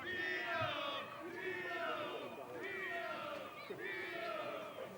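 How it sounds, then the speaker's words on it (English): A crowd at a youth Gaelic football county final, under-14 level, shouts and cheers in repeated swelling waves, a mix of raised voices carrying across the pitch at moderate distance. "Some of the crowd here from Shannon are obviously fans of Tino, giving him the royal welcome"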